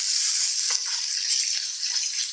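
Chopped onions hit a hot pan already holding browned garlic and ginger for a chicken curry, giving a steady, close, bright sizzle with a few soft stirring knocks.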